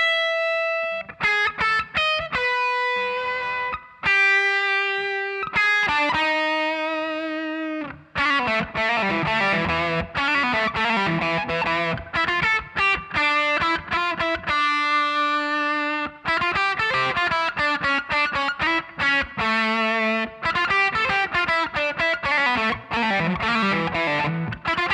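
A distorted electric guitar plays the outro riff of a song, loud and sustained, with sharp stops between bursts of ringing, effect-laden notes.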